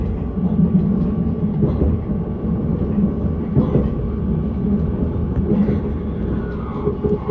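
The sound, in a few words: Innsbruck S-Bahn train climbing a mountain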